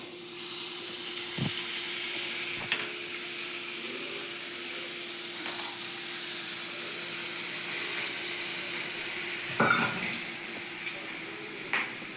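Fish roe stir-frying in a hot pan for a Kerala thoran, a steady soft sizzle and hiss with occasional clinks of a spoon against the pan, close and continuous.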